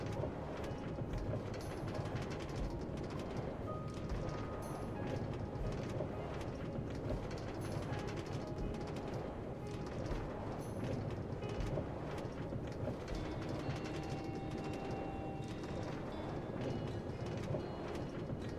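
A Minecraft minecart runs along a long rail line, giving a steady, even rolling rumble with a faint rhythmic clatter that continues unbroken for the whole stretch.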